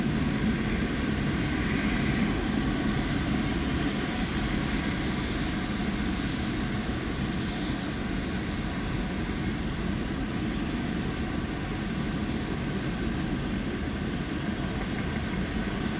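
A BNSF oil train of tank cars passes a CSX automobile train, a continuous heavy low rumble and roar of rolling freight cars, loud and steady throughout with no talk.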